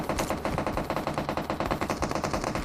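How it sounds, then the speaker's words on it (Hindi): Rapid automatic gunfire in the mobile shooter PUBG Mobile Lite, a steady burst of many quick shots in a fast, even rhythm, moderately loud and heard on its own without talk. "अब देखना गन शॉट की आवाज़ सुना जरा वापस है"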